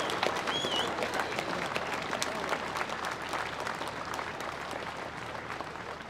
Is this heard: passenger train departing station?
no